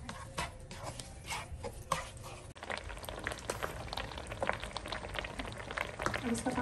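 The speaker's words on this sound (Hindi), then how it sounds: "अब इसका पानी खुश हो रहा है तो इसमें कैसे बबल्स की आवाज़ आ रही है" Water bubbling at a steady boil in a pot on the stove, a dense fizzing and popping texture throughout, moderately quiet and close.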